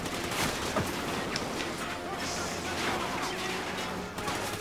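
Sustained gunfire in the video game Call of Duty Ghosts, a dense, continuous barrage of rapid shots filling the whole stretch with loud, crackling bursts.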